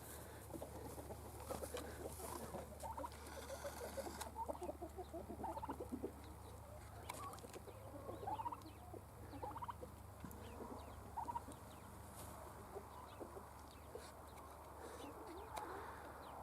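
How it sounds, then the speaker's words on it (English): Poultry at a campfire Thanksgiving cook-out cluck and gobble in a busy, overlapping chorus, faint and close, over a steady low outdoor hum. "we got a chicken that thinks it's a turkey"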